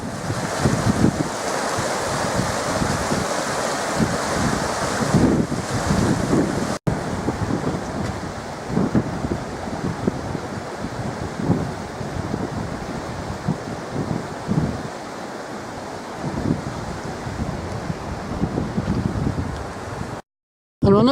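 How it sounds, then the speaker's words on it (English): Swollen mountain river rushing after heavy rain on the climb up Cuilcagh Mountain in County Fermanagh, a steady broad roar of water with gusty wind buffeting the microphone throughout, loud and continuous, with a brief dropout near the end. "Plenty of rain has swollen these mountain rivers."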